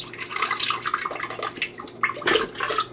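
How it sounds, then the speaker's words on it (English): Canned peeled whole plum tomatoes pour from the can into a blender, a short wet sloshing splash with gurgles, close and fairly loud. "Pour them into your blender."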